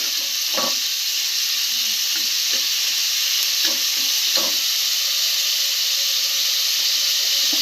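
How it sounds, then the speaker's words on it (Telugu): Thinly sliced large onions frying in hot oil for a mutton curry, a steady bright sizzle with occasional soft stirring scrapes, close and continuous with no talk. "పెద్దవి సన్నగా తరిగి పెట్టుకున్న ఉల్లిపాయలు బ్రౌన్ కలర్ వచ్చేంత వరకు ఫ్రై చేసుకోవాలండి"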